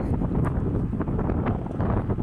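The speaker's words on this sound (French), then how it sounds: "Je tourne la tête de temps en temps pour moins entendre le vent" Strong wind buffets the microphone while riding an electric unicycle on the road, a constant low roaring rumble with gusty fluctuations and no speech.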